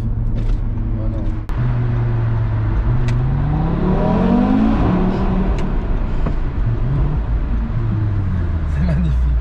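A 400 hp Audi RS3 engine revs up and down nearby, the pitch sweeping up then settling back, with people talking over the steady engine drone.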